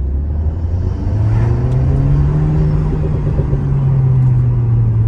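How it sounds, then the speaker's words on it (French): A rear-engined sports car accelerates hard, heard from inside the cabin as a loud, close engine drone whose pitch climbs steadily over several seconds with little pause. "on va continuer à se faire des petites accels, on va voir ce que ça donne un petit peu"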